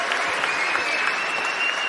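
An audience at a Bitcoin conference in Amsterdam claps together, a brisk, dense burst of applause filling the hall at close range and holding steady throughout.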